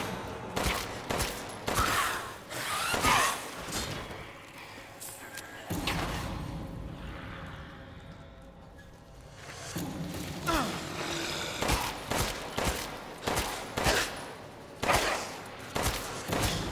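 Scattered gunshots in Resident Evil Village, coming as irregular loud cracks and short volleys mixed with thuds and movement, with quieter stretches between bursts.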